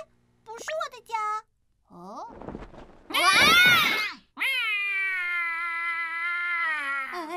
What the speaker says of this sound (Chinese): 是猫咪，为什么会在这儿？